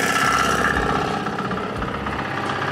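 A small FTI2010DE III mini tractor engine labours steadily as the machine climbs a terrace step nearly one metre high in a field, a loud, continuous, rough diesel drone with uneven vibration throughout and no talking.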